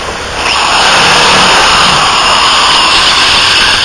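A mandolin back is sanded with 80 grit sandpaper, a loud, steady rasping roar that starts after a brief quiet moment and holds evenly to the end.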